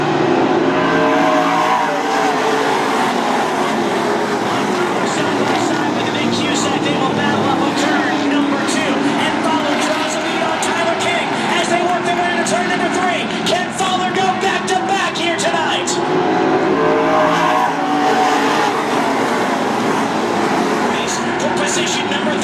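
Race cars lapping a track during an evening motorsport race, a loud continuous engine roar that swells and fades as cars pass, with a commentator talking over it throughout.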